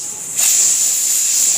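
Pressure cooker lid whistling sharply as steam bursts out while kochur loti (taro stolons) cooks, a steady high hiss starting abruptly and holding loud and close.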